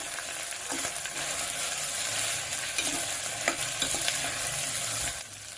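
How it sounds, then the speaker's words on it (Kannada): Spices fry in a pan for Maharashtrian masala bhat, giving a steady close sizzle with scattered scraping and clinking as a utensil stirs them. "ಈಗ ಇದು ಚೆನ್ನಾಗಿ ಫ್ರೈ ಆಗಿದೆ"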